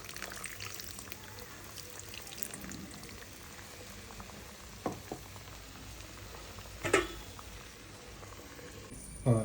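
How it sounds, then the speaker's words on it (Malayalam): Milk is poured into a pan of snakehead fish as it cooks, giving a quiet bubbling simmer with soft sizzling and a brief pouring splash. "ലാസ്റ്റ് കുറച്ച് പാലും കൂടി ഇരിക്കുന്നുണ്ട് അത് ഒഴിക്കാറായിട്ടുണ്ടെന്നാണ് അമ്മ പറയുന്നത്"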